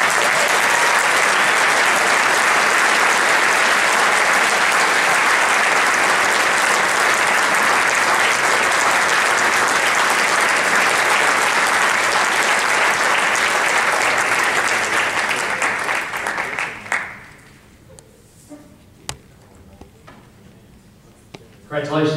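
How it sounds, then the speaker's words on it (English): An awards ceremony audience gives a long, loud round of applause for a men's award winner, dense steady clapping that lasts about seventeen seconds before cutting off to near quiet with scattered small sounds. "Have a nice round of applause."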